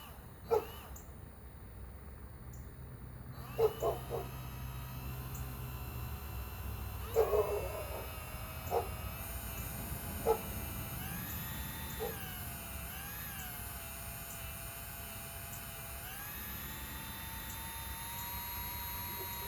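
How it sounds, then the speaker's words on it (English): Baron, a boxer dog, barks a handful of times in the background: short, separated yelps at irregular intervals, fairly distant and faint beneath a steady hum and whine. "hear that barking in the background, that's Baron the boxer dog"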